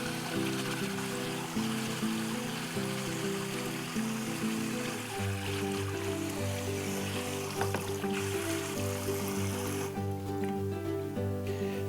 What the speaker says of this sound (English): I'm going to wash the carrots and slightly and gently scrub them with a Scotch-Brite